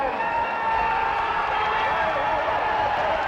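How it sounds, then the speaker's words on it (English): A stadium crowd at a 1992 Glasgow versus Cradley Heath speedway meeting roars and cheers continuously after the Tigers clinch a narrow win, a dense, sustained wall of noise with no letup. "Just let the crowd's reaction do the talking to this one."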